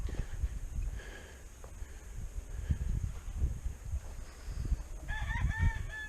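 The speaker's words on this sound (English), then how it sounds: "Chickens running around here everywhere." Chickens and a rooster on a homestead, with clucking and crowing calls rising near the end over steady outdoor rumble and wind; the calls come in short bursts, moderately close.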